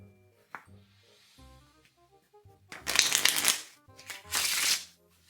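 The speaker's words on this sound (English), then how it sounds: "Just giving them a standard shuffle." Two bursts of riffle shuffling from a deck of broken-in, non-slippery playing cards, crisp rapid flutters close up, with quiet handling sounds and soft background music between them.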